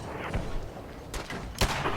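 Gunshots fired at a legendary raider in Fallout 4, a few sharp separate bangs over a steady background of game ambience.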